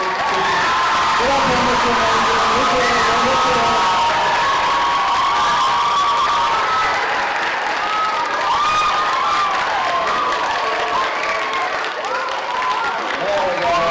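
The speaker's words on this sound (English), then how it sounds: "can we just have one more round of applause for our high school adjudicators, please?" A school audience at a district middle school choir assessment gives loud applause and cheering for the high school adjudicators, with whoops and shouting over sustained clapping while someone talks through it.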